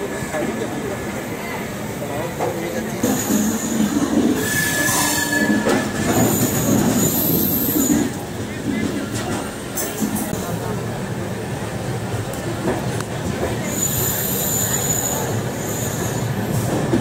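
Ajmer Amritsar Express hauled by a diesel locomotive at Ludhiana, heard as steady rumbling rail noise with screeching wheel squeals, close and loud, while a person talks over it.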